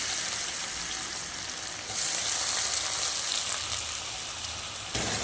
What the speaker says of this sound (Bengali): খুব মিহি করে কেটে রাখা পেঁয়াজ আর রসুনের কুচি এর মধ্যে ছেড়ে দিলাম।